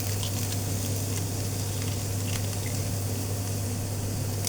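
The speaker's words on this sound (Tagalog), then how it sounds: "Simple lang na fry egg." An egg fries in a pan while vegetable fried rice is being made, producing a dense, continuous close-up sizzle over a steady low hum, with no talking.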